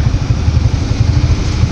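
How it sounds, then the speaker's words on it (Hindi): A dumper truck engine at a road construction site drones with a steady, loud low rumble and fast rhythmic pulsing, close and continuous with no talk. "अभी ये डेम्पर देखें जी, इसकी पावर आप चेक करें ज़रा।"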